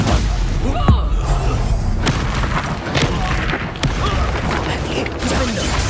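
A Stupefy spell cast in Hogwarts Legacy is heard amid a busy game fight, with booming thuds and sharp impacts recurring every second or so over a rumbling background.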